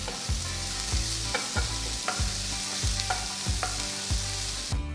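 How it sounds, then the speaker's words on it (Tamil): Chopped onion, finely cut ginger and green chilies sizzle in a pan, with a spatula scraping and stirring in a steady rhythm about once a second over continuous frying hiss. "அடுத்து ஒரு பெரிய துண்டு இஞ்சி பொடியாக நறுக்குனது, 3 பச்சை மிளகாய் பொடியாக நறுக்குனது போட்டு வதக்குங்க"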